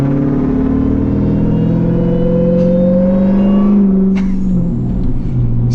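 A turbocharged car with its boost off, running naturally aspirated, accelerates with a loud steady engine drone whose pitch climbs and then settles. Brief hissy transients come near the end.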